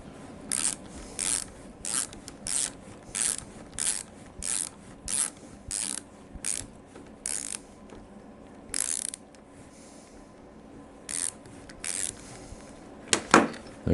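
A hand ratchet clicks in repeated bursts while backing out the six oil pump body bolts on a Harley-Davidson Evolution engine crankcase, close and crisp, with short pauses between strokes and a brief clatter near the end.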